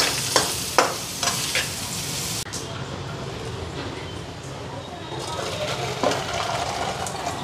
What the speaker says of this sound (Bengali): মাংসটার মধ্যে লবণ হলুদ মাইখা ফ্রাই করে নিই